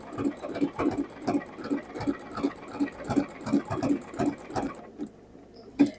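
A sewing machine stitches appliqué onto a sweatshirt, giving a quick rhythmic chatter of needle strokes. The stitching runs steadily for about five seconds and ends with one final stroke.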